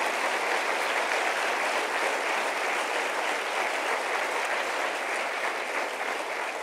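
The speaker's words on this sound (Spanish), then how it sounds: "Denle un aplauso al Señor" A church congregation applauds during a Spanish-language sermon, producing a continuous, dense wash of clapping from many people that stays even and full for several seconds.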